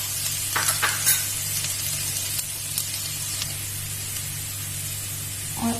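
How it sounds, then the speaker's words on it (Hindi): Two tablespoons of chopped garlic fry in hot oil, giving a steady, close hiss and sizzle with a few brief crackles near the start. "मेरा ऑयल गर्म हो गया है। अब मैं इसमें 2 टेबल स्पून चॉप्ड गार्लिक डाल दूंगी।"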